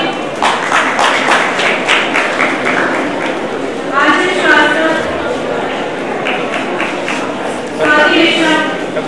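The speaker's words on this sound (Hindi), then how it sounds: "बताते रहो, ताली बजाते रहो।" An audience at a swine flu workshop held at National P.G. College claps in rhythmic bursts of strong, fairly close claps that come and go while people talk over them.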